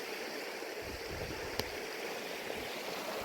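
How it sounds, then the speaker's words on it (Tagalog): A clear creek flows along a mountain trail, a steady close wash of running water with one brief click partway through. "Malinaw ng sapa"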